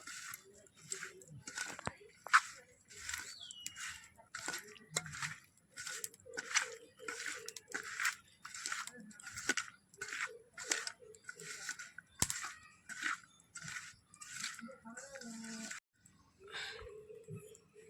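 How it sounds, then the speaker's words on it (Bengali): Fish pieces are worked by hand with salt and turmeric in a bowl, giving soft, quiet, rhythmic squishing and wet slapping sounds that repeat steadily and closely. "দিয়ে ভালো করে মেখে নেব লবণ হলুদ দিয়ে।"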